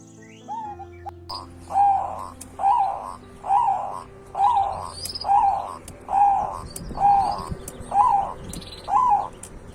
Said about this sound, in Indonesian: memelihara burung perkutut